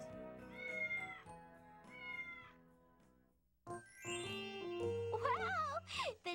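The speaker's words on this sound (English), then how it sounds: "The cat." A cat meows several times in short, separate calls, fairly clear and close, ending in a longer, wavering caterwaul-like cry over a soft background, with no talking.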